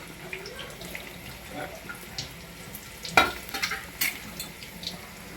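Crab curry cooking in oil with onions, green chillies and masala, giving a low steady frying sizzle with stirring scrapes and a sharper clatter midway, no talk.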